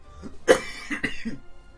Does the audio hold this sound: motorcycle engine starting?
no